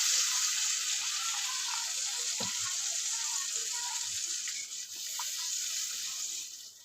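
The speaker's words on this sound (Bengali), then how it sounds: "এখন আমি অল্প জল দিয়ে দেবো।" A little water poured into a hot cooking pan sets off a broad, steady sizzle and hiss that runs throughout, with a few soft clinks and stirring sounds underneath.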